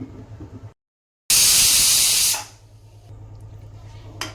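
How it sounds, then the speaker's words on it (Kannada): A pressure cooker whistle: a loud burst of hissing steam releases for about a second, then tapers off, with a low steady hum and quiet background noise around it, while cooking moong dal. "ಈಗ ನಾನು ಕುಕ್ಕರ್ ಕ್ಲೋಸ್ ಮಾಡಿ 1 ವಿಸಿಲ್ ಹೊಡಿಸ್ತೀನಿ"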